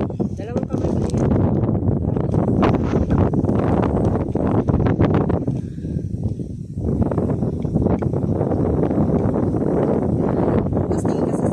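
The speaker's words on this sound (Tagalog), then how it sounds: "Laksa ng hangin. Sarap ng hangin." Strong wind gusts across an outdoor spot, a steady, loud roar buffeting the microphone for the whole stretch, with people talking beneath it.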